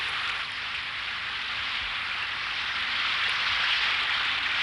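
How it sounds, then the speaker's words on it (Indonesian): Heavy rain pours down in a dense, continuous hiss, steady and even throughout with no other sounds standing out. "hujannya agak deras"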